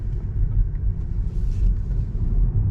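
A Tesla Model 3 Standard Range electric car accelerates gently in chill mode, heard mostly as a steady, deep road-and-tyre rumble from inside the cabin with no motor whine and no talking.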